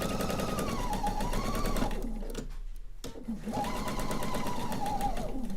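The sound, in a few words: sewing machine sewing a quilt seam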